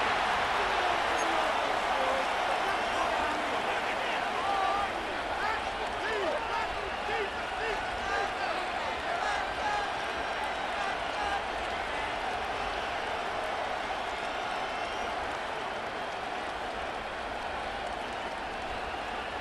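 A stadium crowd roars continuously in a Madden NFL 26 football video game, loud and dense throughout, with commentary voices running over it.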